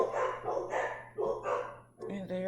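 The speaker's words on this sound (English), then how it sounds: "And there are the dogs." Several dogs bark in short bursts indoors, about four or five close yelping barks with brief gaps, loud and near.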